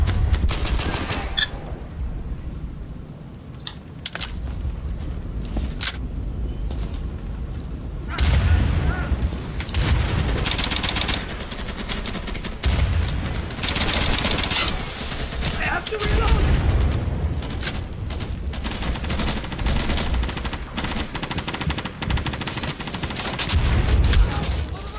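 Gunfire in the tactical shooter Insurgency fills the whole stretch: rapid automatic bursts, single cracks and heavy booms, some near and some distant, with players' voices talking over the battle.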